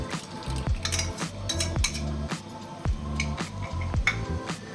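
Cherupayar payasam being stirred in a metal pot after powdered dry ginger and cumin are added, with repeated rhythmic scraping and knocking of a spoon against the pot and soft liquid squelches, close and alone.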